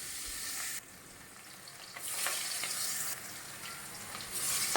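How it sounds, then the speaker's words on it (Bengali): Hilsa fish frying in hot mustard oil in a wok, a steady close sizzle with crackling bursts that swell as pieces are added one by one, no voices. "কড়াইতে সর্ষের তেল গরম করে এক এক করে মাছগুলো দিয়ে দেবো"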